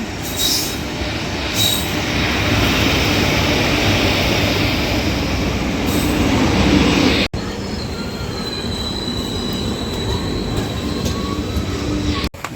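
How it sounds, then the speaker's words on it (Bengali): A train rolls into a station close by with a loud, steady rumble of cars over the rails, joined by high metallic wheel squeals toward the end. "তো আমাদের ট্রেন ঢুকে পড়েছে"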